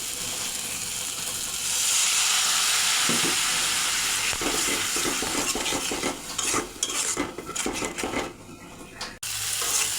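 Spice masala frying with a little water in a pan for a Bengali tengra fish curry with potato and eggplant, a steady sizzle broken by scraping stirs and clinks of a utensil against the pan, close and alone.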